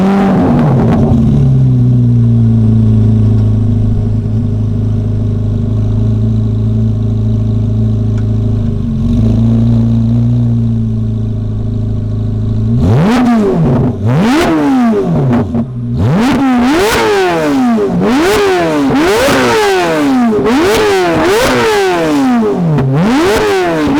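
A C8 Corvette Z06 with a Label titanium straight-pipe exhaust idles with a deep, steady drone, then breaks into a rapid series of sharp, screaming revs up close.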